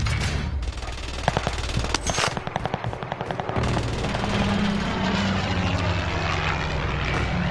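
A helicopter in a video game thrums steadily, loud and continuous, with rapid bursts of automatic gunfire crackling over it in the first half.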